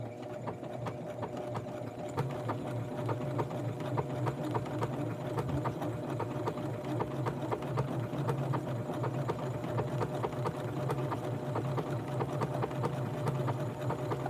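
A sewing machine stitching a small retro blouse for a Western Barbie doll: a steady, rapid mechanical clatter of the needle that runs evenly for the whole stretch, moderately loud and close, with no voices.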